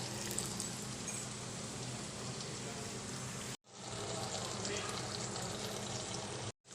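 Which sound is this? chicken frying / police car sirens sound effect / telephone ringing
chicken frying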